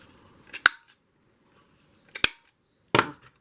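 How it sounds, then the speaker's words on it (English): Three sharp scissor snips cutting paper at an angle, well spaced and close by, each a crisp broadband clack with a short rustle, quiet between cuts. "so we will fake it with a pair of scissors"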